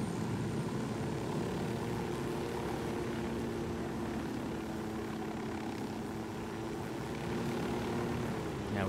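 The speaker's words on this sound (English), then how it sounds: "Now we just have to wait for the helicopter to gain altitude." Helicopter flying in the video game Ghost Recon Wildlands, a steady continuous rotor and engine drone with a low hum, holding at even loudness throughout with no talk.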